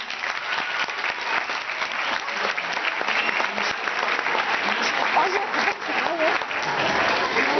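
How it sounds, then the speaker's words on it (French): An audience at a comedy show applauds steadily for several seconds, with a dense wash of clapping and faint voices mixed in. "applaudissez pendant que j'installe le truc"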